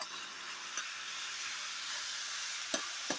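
Onions frying in oil for Maggi and macaroni, a steady, bright sizzle with a few faint clicks of a spoon stirring, close and alone with no talking.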